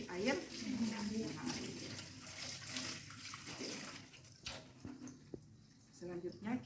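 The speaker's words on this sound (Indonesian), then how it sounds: "Kemudian kita bilas di air mengalir." Hands rinsed under a running tap during a postpartum physical examination. A steady wash of water streams continuously, with splashing shifts, while voices murmur faintly in the background.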